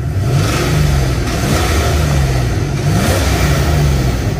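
A car engine revving after an oil change, warmed up to temperature, with loud repeated revs rising and falling over a constant engine drone, close by and with no speech.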